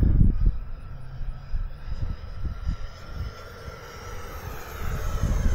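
An FMS Avanti S electric RC jet on a 6S pack flies at half throttle outdoors, its distant whooshing fan noise rising and fading as it passes, with wind buffeting throughout.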